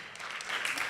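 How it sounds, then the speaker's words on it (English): A brief burst of audience applause at a virtual reality conference, swelling quickly as a speaker from Broomx is welcomed. "Round of applause"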